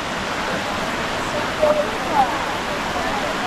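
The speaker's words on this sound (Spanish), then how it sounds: "Acá corre el río con más fuerza." A Costa Rican river rushes strongly in a steady, dense roar of flowing water heard close up, with faint brief voices rising briefly above it.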